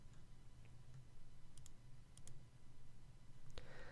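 A computer mouse gives a few faint, sparse clicks over a quiet room hum.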